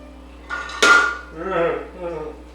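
A soft cork pop rings out close by, followed by a faint clink and some quiet handling sounds.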